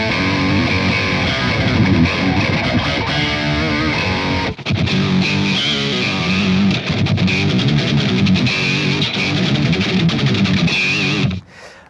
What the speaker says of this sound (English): And if I put the octave on